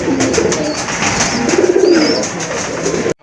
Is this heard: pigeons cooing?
yes